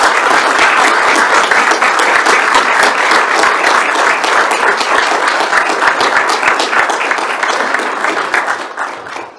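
An audience at a commission meeting gives a long, loud round of applause honoring a police dog, dense and close, tapering off at the end.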